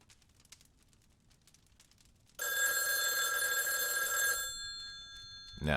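A telephone bell rings steadily in a virtual cabin video game, a loud, continuous electronic trill lasting about two seconds after a quiet stretch, then fading into a softer tail.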